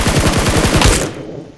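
Rapid automatic fire from a Kilo rifle in BGMI/PUBG Mobile, a loud close burst of evenly spaced shots that cuts off after about a second.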